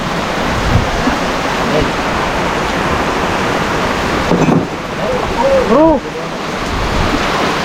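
Heavy rain pours in a dense, constant roar at a riverside farm as a storm approaches, with a short word from a voice and a few whistly chirps near the end.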